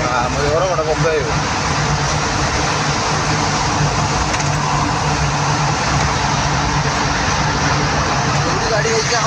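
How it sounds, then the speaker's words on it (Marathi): Vehicle tyres roar continuously inside the long Kasara road tunnel, a dense, loud, reverberant rumble of traffic that never lets up, with people talking over it. "अरे टायरांचा आवाज येतो. टायरांचा बोगदा आहे ना"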